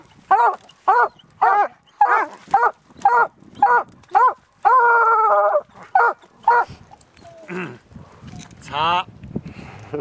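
Hounds on an Idaho mountain lion hunt bark in a quick run of about a dozen sharp, close barks with a brief howl, then whimpering yips and a voice near the end.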